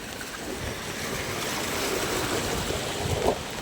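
Rainwater rushing along a flooded street and pouring into a house after a short rain, a steady broadband wash with no voices, close and continuous, swelling slightly near the end.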